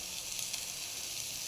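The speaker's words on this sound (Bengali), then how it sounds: "এবার আমার বড়াটা ভাজা হয়ে গেছে অলরেডি, আমি তুলে নেব।" Chana dal fritters frying in hot oil give off a steady, close sizzle that holds evenly throughout the short stretch, with no voices over it.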